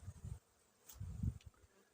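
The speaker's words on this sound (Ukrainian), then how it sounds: "Як облітаються бджоли, ще навіть якийсь пилок приносять." Soft buzzing of honeybees flying close by around a hive, some carrying pollen, rising and falling in a few short swells against a quiet background.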